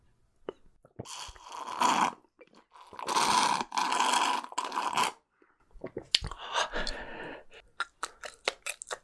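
Edible drinking straws in beef bone broth flavour being bitten and chewed up close, with dense crunchy bursts in several runs followed by sharper, scattered crisp crunches, and no talking.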